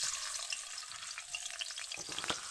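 A rohu fish head fries in hot oil, giving a steady, close crackling sizzle that runs throughout with brief sharper pops near the end, and no voices.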